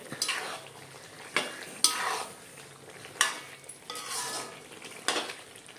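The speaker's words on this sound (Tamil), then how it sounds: "நல்லெண்ணெய் சேர்த்து இப்படி ஒரு பெரட்டு, இப்படி ஒரு பெரட்டு." Chicken curry being stirred in a pan after sesame oil goes in, with repeated scraping strokes of a spoon against the pot over a soft sizzle, several distinct clanks spaced a second or so apart, close and moderately loud.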